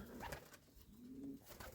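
Sport pigeons in a village loft give low, soft cooing calls, faint and close, over a quiet rustling background with no talking.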